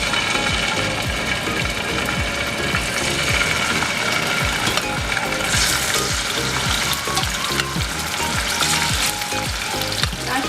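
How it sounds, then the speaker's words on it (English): Chicken pieces frying in hot oil over medium-high heat, a loud dense crackling sizzle that holds steady throughout with a low rhythmic knocking underneath and no talking. "now we're gonna fry up the chicken first"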